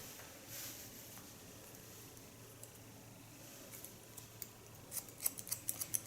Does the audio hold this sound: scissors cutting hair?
yes